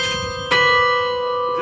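Carillon bells struck from the pedalboard ring out with a sharp strike, then a long sustained tone that holds and slowly fades, followed by a fainter second strike near the end. The sound is loud and resonant, with no talking.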